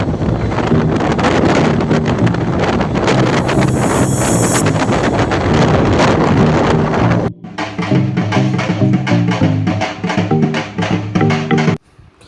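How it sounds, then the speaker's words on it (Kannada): Wind buffeting a microphone on a motorbike ridden at 80, a loud, dense roaring rush that continues without a break, dropping briefly partway through before resuming, with no talk over it. "ನೋಡ್ರಿ ಅಪ್ಪಾಜಿ ಬೈಕ್ 80 ಸ್ಪೀಡ್ ಗೈಸ್."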